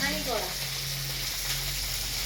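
Fish fries in a pan with a continuous close hiss of hot oil and a low steady hum beneath it, and a brief vocal sound at the start.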